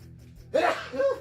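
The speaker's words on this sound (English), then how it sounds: "I'm going to sneeze." A single sneeze rings out, a short indrawn breath followed by a sharp, voiced burst, close and fairly loud.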